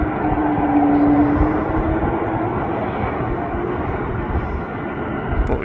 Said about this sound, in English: Cathay Pacific is on its taxi out back to Hong Kong.